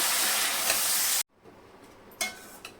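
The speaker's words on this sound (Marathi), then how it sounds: "आता हे जे मूग आहेत सोडलेलं ते आपण याच्यामध्ये टाकून घ्यायचे मिक्स करायचं" Moong beans being stirred into a spice mix in a pan give a dense scraping sizzle for about a second, then stop abruptly, followed by quieter pan noise and two short clinks or scrapes.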